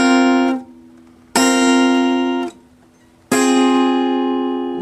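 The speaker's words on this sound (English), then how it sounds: "That's a minor chord there." Minor chord from a riff plucked on a guitar, three notes struck together three times, each ringing out and decaying before the next pluck; clean, close and alone, no talking.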